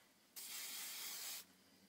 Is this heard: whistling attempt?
no